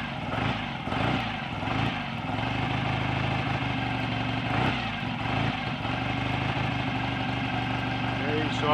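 A rebuilt BSA A65 twin motorcycle engine runs steadily right after start-up, a loud, continuous idling drone with a pulsing low rumble that holds constant throughout, with no clear speech over it.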